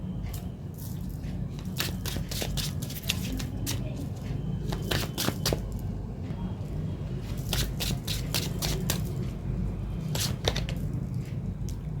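Tarot cards are shuffled close up in repeated crisp riffling bursts against steady low background noise, with no talking.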